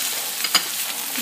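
Potatoes and onion frying in a pan are stirred, a brief scrape and clatter rising out of a steady close sizzle over a medium stove flame.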